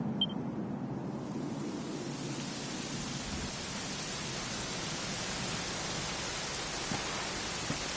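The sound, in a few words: rain in a video game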